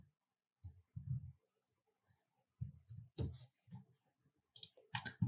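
A computer mouse clicks in short, sparse bursts close by, some single and some double, separated by brief pauses of silence.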